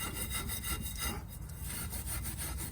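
Steady abrasive scraping of rust off the rear brake hub of a 1998 Toyota Camry, a continuous loud rasping, grinding texture that runs the whole time with no talk over it.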